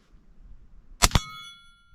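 Two sharp metallic rings from supersonic .223 rounds striking a 10-inch steel gong, one right after the other, each leaving a bright ringing decay over quiet background rumble.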